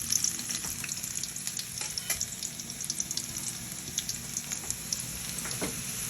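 Garlic frying in a pan for chicken curry gives a steady, dense sizzle with crackly pops and light stirring clicks, close and continuous with no talk.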